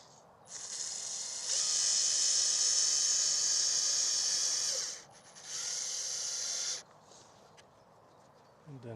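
Screw being driven in during construction: a powered driver whirs loudly for about three and a half seconds, pauses briefly, then runs again for under two seconds, close by with a high-pitched motor whine.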